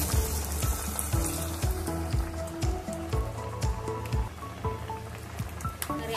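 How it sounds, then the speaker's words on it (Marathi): Moong dal vadas deep-frying in hot oil give off a continuous crackling sizzle with dense popping bubbles, close and steady, with no voices. "आपले वडे छान तळले चाललेले आहे, मस्त असे तळत आहे"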